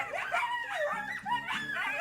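Coyotes howling and yipping in a wavering, overlapping chorus, rising and falling pitches that carry steadily and fairly loud with no pauses.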